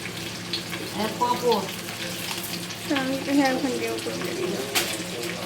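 Dried red chillies and Bengali five-spice crackle in hot oil while mango chutney is being started, a steady close sizzle with stirring and a voice talking over it.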